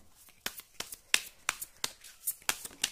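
Tarot cards being handled and shuffled: a series of crisp, close, papery snaps and flicks at an irregular rhythm, with quiet pauses between.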